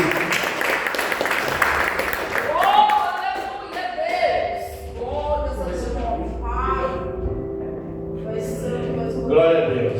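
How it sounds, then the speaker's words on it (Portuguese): A church congregation claps during a service, a broad wash of applause at the start that fades beneath a preacher's voice. "As palmas para o Senhor."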